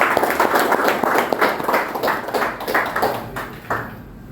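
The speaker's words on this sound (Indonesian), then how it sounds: "tepuk tangan untuk Rifki" A room of people applaud together for a student named Rifki after a sports kinesiology lesson, with dense, steady clapping that gradually thins and fades over a few seconds.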